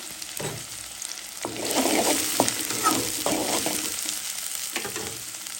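Crushed garlic hits hot oil in a pan while cooking a dried mola fish curry with eggplant, giving a steady close sizzle broken by repeated scraping stirs, with no voices.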